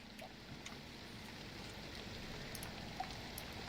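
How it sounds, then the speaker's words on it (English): Rain sound effect plays during a Curse of Strahd tabletop game session: a steady, even hiss of rainfall that holds constant throughout, with no voices over it. "Here comes the rain"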